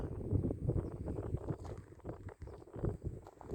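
Wind blows over the mountains around Alucra, buffeting the microphone with a low, uneven rumble and gusty surges that keep going throughout, with no speech.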